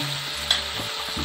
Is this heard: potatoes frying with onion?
yes